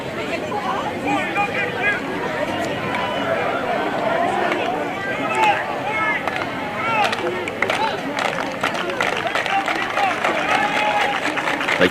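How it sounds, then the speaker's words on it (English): A high school football crowd at a varsity game makes a steady hubbub of cheering, shouts and chatter from the stands, with a nearby voice talking over it and scattered claps and thumps. "The crowd is finally getting more into it."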